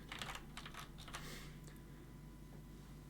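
Fingers type on a Commodore PC keyboard with Cherry MX switches, a few close, crisp keystrokes early on that then trail off over a low background hum.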